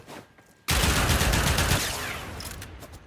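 A Pyrana Prime shotgun with a corrosive build fires in Warframe. After a short quiet start, a sudden loud burst of rapid, continuous blasts runs for over two seconds and then gradually thins out.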